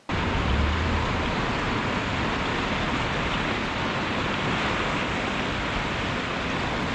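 Water churns through an old mill on a chalk stream, a loud, unbroken rushing roar that holds steady from start to finish with no talking over it.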